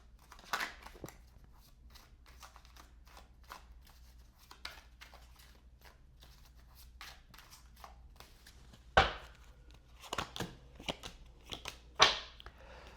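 A tarot card deck is shuffled by hand in a quiet room, producing soft, rapid papery riffles and taps with a few sharper, louder flutters and slaps toward the end.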